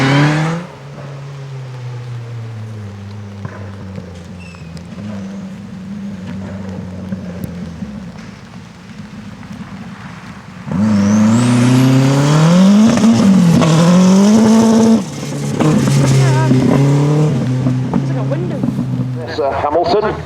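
A historic rally car, a little Metro 6R4, blasts past at a rally festival with a loud rising engine roar and revving gear changes that peak mid-pass and then fade. Talk is heard over a steady engine drone before and after.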